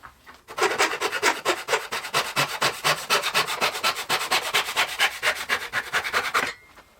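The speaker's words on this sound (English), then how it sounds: "We're just going to chop this off using our handsaw." A handsaw cutting through a piece of wood, fast rhythmic rasping strokes, close and loud, steady for about six seconds before stopping.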